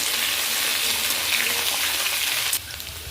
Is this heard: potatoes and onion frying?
yes